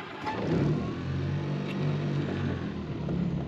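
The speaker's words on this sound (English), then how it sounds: "we're gonna start the engine. Hopefully it starts." A boat's outboard engine turns over and catches, a low mid-pitched rumble rising and settling into a steady near drone, with no talking.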